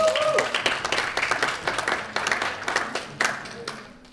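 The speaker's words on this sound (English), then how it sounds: "There we go, a round of applause." An audience applauding, a short burst of scattered clapping at moderate distance that thins and fades over a few seconds, with a faint tone at the start.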